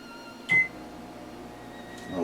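A microwave oven runs with an egg omelet cooker inside, a faint, steady low hum with a sharp click or beep near the start and another soft tone toward the end.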